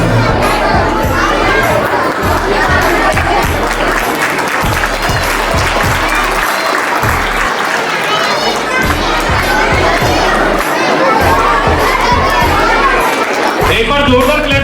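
A crowd of audience members applauds loudly and steadily in welcome at a gathering, with cheers and shouts mixed into the dense clapping throughout.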